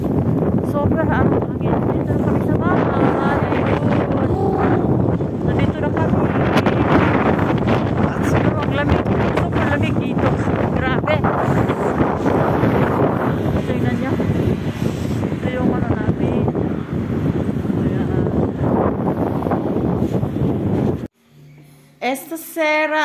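Strong wind in Monza, Italy, buffeting the microphone, a continuous roaring rumble under people talking, cutting out abruptly near the end.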